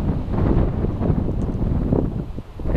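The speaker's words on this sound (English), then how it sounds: "the wind on the Draper Ridge has been unbelievably fierce" Fierce wind on Draper Ridge at about 9,300 feet buffets the microphone, a loud, rumbling roar with gusting surges that rise and fall continuously, with no voices.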